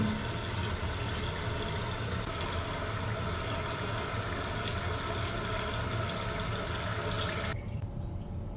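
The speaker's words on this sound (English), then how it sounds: "See where the water line, how it's filling up? And it should shut off pretty soon." Toilet tank refilling after a 1.6-gallon flush, a steady close rush of running water that continues evenly before abruptly cutting off near the end as the fill valve shuts.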